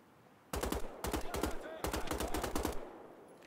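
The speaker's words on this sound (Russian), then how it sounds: "Еще снайпер где-то работает." Gunfire in Wolfenstein: The Old Blood, a sniper shooting somewhere in the level: several loud bursts of rapid shots in quick succession, with short gaps between them, standing alone without talk.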